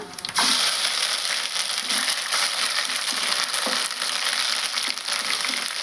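Ginger paste dropped into onions frying in oil for a ridge gourd and egg curry gives a steady, loud crackling sizzle with faint scraping, alone and continuous throughout.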